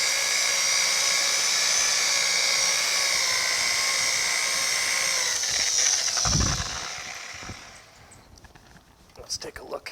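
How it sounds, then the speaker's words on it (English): A polishing wheel on a power buffer whines steadily at close range while buffing the edges of a 1950 Chevy five-window truck cab, then winds down near the end, leaving a few knocks and handling sounds. "Now we can get this edge with the wheel turning away."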